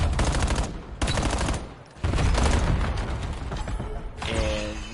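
Rapid automatic gunfire and bursts of shots in a Black Ops 7 multiplayer match on an island map, loud and dense, with short pauses between volleys and a final mechanical clatter.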